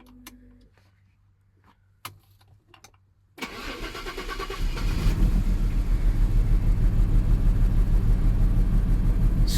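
A classic Jaguar XJS engine cranks after a few faint clicks, then catches and runs loud and rough with an uneven misfire, continuing steadily close by.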